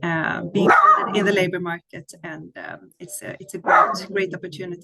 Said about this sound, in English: I apologize for my dog here.